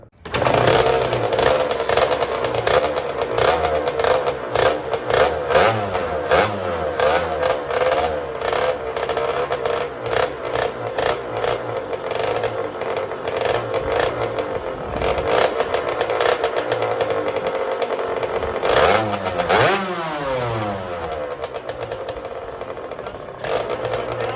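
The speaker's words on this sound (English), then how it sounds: "we're gonna start her up and do another heat cycle" Custom TRX90 ATV fitted with a Honda CR85 two-stroke engine fires up and revs, a buzzy, rapid exhaust rising and falling in repeated throttle blips, close and loud throughout.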